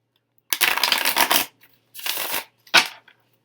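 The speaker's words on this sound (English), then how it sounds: "So I'm going to go ahead and shuffle. These shuffle like a dream, by the way." Tarot cards shuffled in three quick riffling bursts, a long one, a shorter one, then a brief final flick, close and crisp with no talking.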